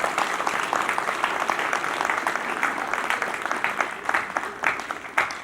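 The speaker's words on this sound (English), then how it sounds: "A round of applause." A crowd at a military graduation ceremony gives a dense, sustained round of applause. Many hands clap steadily throughout, with some louder individual claps near the end.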